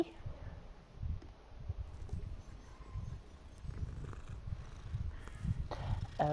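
A cat purrs in the video game Hogwarts Legacy, a steady low rumbling that runs continuously over a busy game soundtrack, with faint speech now and then.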